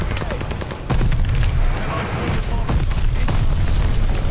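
Grenade blasts in Call of Duty: Vanguard, heavy booming explosions with sharp onsets and rumbling tails, loud and close, alongside scattered gunfire.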